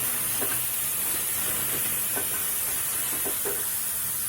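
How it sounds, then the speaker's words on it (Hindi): Ginger garlic paste fries in a pan with a steady, close hiss of sizzling, broken by a few soft stirring clicks, with no talk. "इसको थोड़ी देर भूनें।"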